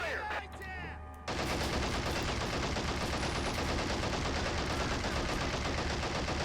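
Coaxial machine gun on a T-58 tank in the Men of War strategy game, firing a sustained burst of rapid, dense gunfire that stays loud and constant for several seconds after a brief moment of game noise and faint voices.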